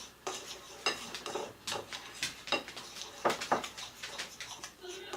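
Marble glaze for baking being stirred in a bowl with a utensil: scraping and clinking strokes in an uneven rhythm, close and moderately loud, with no voice over them.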